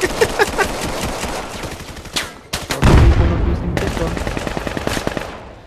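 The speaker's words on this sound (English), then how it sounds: "I love this suppressed pistol." Suppressed pistol fire in the VR shooter Vail VR comes as a rapid series of sharp muffled cracks, dense and close, with one heavier burst in the middle and a player's voice mixed in.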